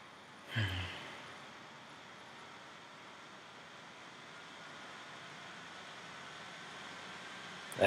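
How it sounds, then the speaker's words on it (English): Cooling fans of a 13-inch MacBook Pro with an Intel Core i5 running under a demanding game load, a constant broadband whoosh holding steady throughout after a brief soft bump near the start. "If you hear that, that is my fans in the background."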